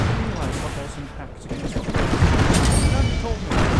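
Unit gunfire in Command & Conquer 4, a continuous clatter of battle shots mixed with radio-style unit voice lines talking over it.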